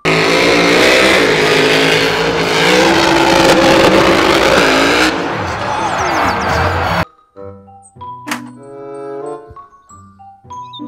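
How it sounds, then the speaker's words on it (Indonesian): Toy monster truck with a loud whirring motor revving steadily for about seven seconds, then cutting to quiet, leaving short jingly electronic tones and clicks. "mobil truk monster"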